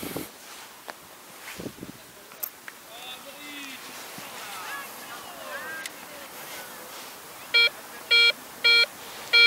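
A Garrett ACE 150 metal detector sounds over a 2 euro coin, giving four evenly spaced electronic beeps near the end after a stretch of faint background rustling and soft chirps.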